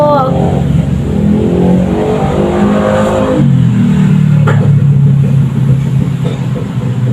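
A loud motorcycle engine revs up close and then drops in pitch as it passes, its drone fading to a steady rumble.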